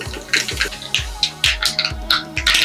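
Mustard seeds crackle and pop in hot oil for a bitter gourd curry tempering, giving a quick run of sharp, close pops over a low, bubbling, rhythmic sputter.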